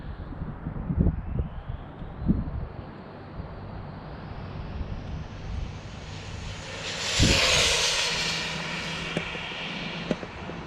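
Rlaarlo AK917 RC car making a speed pass outdoors, a high-pitched motor whine rising and sweeping past amid wind noise, with a few thumps from handling near the start.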